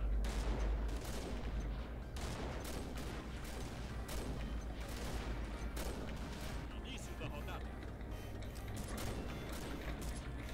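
Gunfire in the online shooter Combat Arms: repeated rapid bursts and heavy shots with mechanical clatter, dense and continuous, with players talking over the battle.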